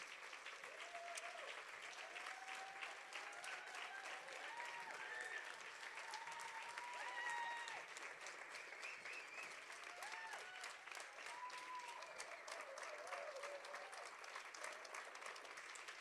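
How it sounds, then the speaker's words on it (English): Steady crowd applause for a group of young performers at the 4 Voices 2025 live show, continuous and fairly distant, with voices and cheers mixed into the clapping throughout. "Please, a final applause for an incredible group of young people."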